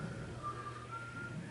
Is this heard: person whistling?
yes